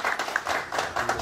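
Brief burst of applause at a community breakfast gathering of Mardin natives in Zeytinburnu, a dense wash of clapping from a seated crowd, moderately loud and continuous.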